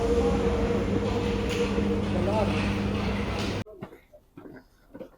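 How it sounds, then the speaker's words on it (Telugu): Paris metro train rumbling loudly and steadily as it runs, a dense roar with tonal squeal, cutting off abruptly after about three and a half seconds into quieter station ambience with faint voices. "సో మనం ఇప్పుడే మెట్రో దిగి వెళ్తున్నాం అనమాట."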